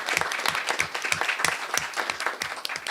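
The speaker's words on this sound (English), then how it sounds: "Let's give them a round of applause." A small group claps at a school board of education meeting, welcoming culinary arts students, with distinct individual claps in a loose, uneven rhythm, fairly close and moderately loud.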